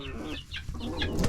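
Chickens cluck in a backyard coop, making a few short, close, throaty calls in a brief burst with no talking.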